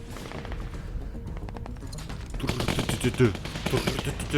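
Gunfire in the video game The Walking Dead: Season 2, with rapid automatic bursts that grow denser and louder halfway through, heard close and sharp.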